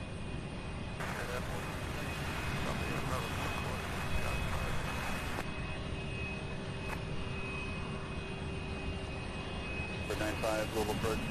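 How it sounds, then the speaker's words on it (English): A Spirit Airlines airliner, Flight 393 bound for Fort Lauderdale, departs Louisville International Airport with a steady, distant jet engine roar, heard under intermittent radio voices and background talk. "We have the Spirit Airlines heading to Fort Lauderdale, Florida, which is where it came from just a little while ago"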